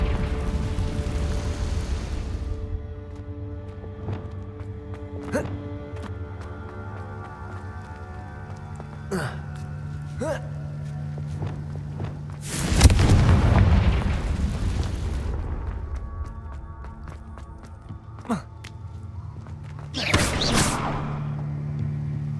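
Spell blasts from Hogwarts Legacy's Confringo over a steady humming game ambience, with a few sharp cracks and pops. Two loud booming bursts stand out, one near the middle and another toward the end.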